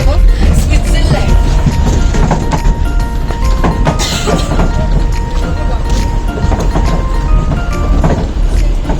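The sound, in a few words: riding on a moving train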